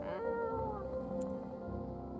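A cat meows in a spooky video game, several drawn-out, wavering cries over a steady low game backdrop, fairly close and clear, with no talking.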